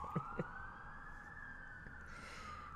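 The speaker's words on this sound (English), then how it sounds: "Oh, sirens! Oh, look, it's a siren!" A siren wails steadily in the distance, a long rising and falling tone over low traffic rumble, with a couple of brief knocks early on.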